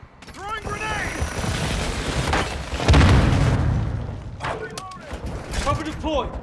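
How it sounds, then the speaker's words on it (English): Grenade blast in Call of Duty, a deep boom swelling out of continuous battlefield gunfire and rumble, with radio-style voices speaking over the combat noise. "Throwing grenade!"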